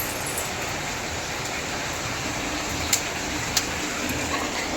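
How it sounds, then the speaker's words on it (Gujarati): Steady rain falling outdoors, a constant broadband hiss with a couple of faint brief taps, heard alone with no talking. "આજે વરસાદ ચાલુ થઈ ગયો છે."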